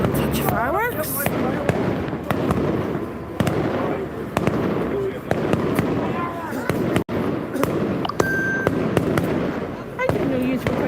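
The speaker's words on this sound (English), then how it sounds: "I didn't know you were putting the fireworks display on." Fireworks crackle and bang repeatedly at the Dunamoney band parade in Magherafelt, a rapid, loud barrage of pops and bursts close at hand, with voices chatting underneath.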